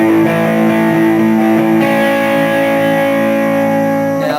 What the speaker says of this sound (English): that's the sound of an amplifier being overdriven